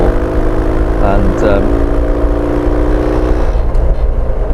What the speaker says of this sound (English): you've got that wonderful barrel-chested sound from the engine, and really deep well of torque